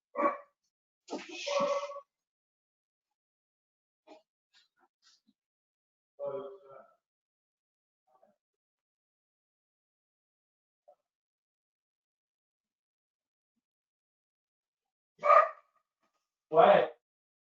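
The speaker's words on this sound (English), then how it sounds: "My dog's up barking." Dog barking indoors in a few short, separated bursts with long quiet gaps between, fairly distant and moderately loud, with the last two barks coming close together near the end.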